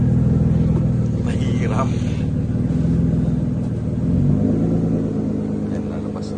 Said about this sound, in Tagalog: Cold start yan.